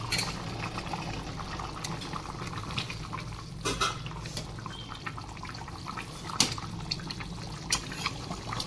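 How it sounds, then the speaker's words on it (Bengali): Chicken curry bubbling in a pot on a home stove, a steady low simmering rumble with soft liquid pops and occasional sharper clinks, fairly faint and continuous. "আর এই আমাদের চিকেন এখন টকবকিয়ে ফুটছে"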